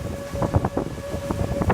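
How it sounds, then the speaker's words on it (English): Strong wind buffeting a handheld microphone outdoors on a campus under a tornado warning, a continuous rough rumble with gusty surges and a faint steady tone behind it. "it is getting windy"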